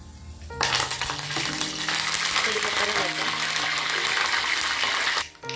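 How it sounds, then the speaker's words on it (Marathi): Loud, steady sizzling and crackling of cumin and mustard seeds with curry leaves spluttering in hot oil, dense and continuous for several seconds before cutting off abruptly. "जिरे मोहरी आणि कढीपत्ता छान तडतडले आहे"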